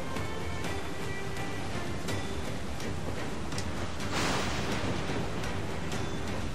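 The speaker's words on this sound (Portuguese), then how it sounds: "As ondas estão muito grandes aqui, velho." Heavy ocean waves in the pirate-ship game Assassin's Creed 4 Black Flag, a continuous loud wash of surf and wind with a stronger surge of spray partway through.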